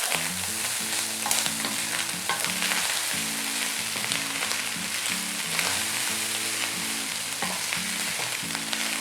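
Roadside-style chicken fried rice is stir-fried on high heat after coriander goes in, giving a loud, continuous sizzle with scraping stirs, over a steady tonal hum like background music.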